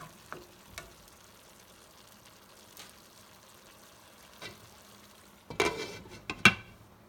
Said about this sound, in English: So we're gonna cover them and let them simmer with the tomato